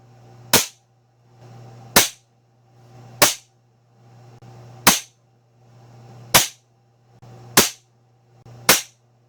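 Seven sharp shots from an Ataman AP16 air pistol fired at a target, evenly spaced about every second and a half, each crisp report preceded by a faint rising hiss over a low steady hum.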